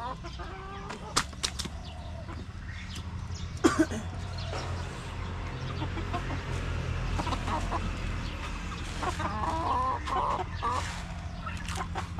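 Chickens cluck and a rooster calls intermittently outdoors over a steady low background hum, with occasional wing flaps.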